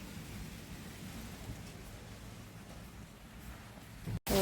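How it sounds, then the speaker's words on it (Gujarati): Rain falls steadily during an unseasonal windstorm over wheat and millet fields, a continuous broadband hiss with low rumbling wind, no voices, ending in a brief cut and a louder burst. "તો અત્યારે ઉઘાડ થઈ ગયો છે પણ વરસાદ હવે ચાલુ છે"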